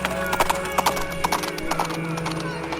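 Horses' hooves clip-clop through city streets as a body is dragged behind them, a quick, uneven patter of hoof strikes repeating across the whole stretch over a busy, dense background.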